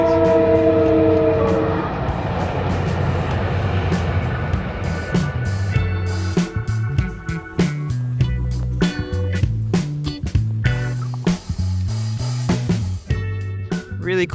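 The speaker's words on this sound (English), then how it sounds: "there comes the train" A train rolls past near the Appalachian Trail, opening with a sustained horn blast before the heavy wheels take over with loud rhythmic clickety-clack and rumbling cars close by, steady and strong to the end.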